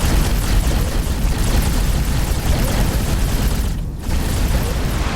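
A missile explosion in space combat from the game X4: Foundations, a loud sustained roaring blast of dense rumbling noise lasting several seconds with a brief dip near the end, no talking.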